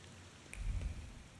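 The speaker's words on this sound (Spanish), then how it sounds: "Está lloviendo." Rain in the video game The Thaumaturge, a brief soft wash of rainfall with a low rumble swelling briefly in the middle, faint and steady throughout.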